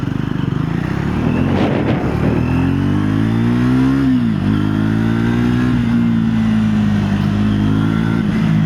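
A Triumph Scrambler 400 XE motorcycle ridden on the road, its single-cylinder engine climbing through revs, dropping briefly at a gear change, then pulling up again under heavy wind rush, loud and close throughout.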